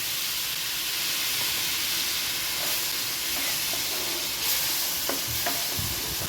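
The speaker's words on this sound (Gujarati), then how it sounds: "તો આ રીતે તમારે મસાલાને ગેસની મીડિયમ ફ્લેમ પર જ સાંતળવાના છે" Spice masala with a spoonful of water sizzling in a pan over a medium gas flame, a loud continuous hiss with a few light stirring taps toward the end.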